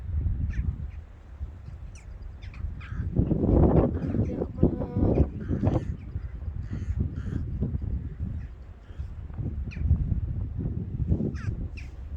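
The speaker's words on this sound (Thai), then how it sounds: "ก็เลยเห็นนกเห็นนกเยอะก็เลยมาถ่ายนะคะ" Crows caw repeatedly from several directions, a busy chorus of harsh calls over soft outdoor background noise.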